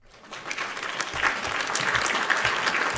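Crowd applause for the Milwaukee Bucks defense after a 2021 NBA playoff Game 4 against the Miami Heat, building up quickly and then holding as a steady, dense wash of clapping with a few low thumps.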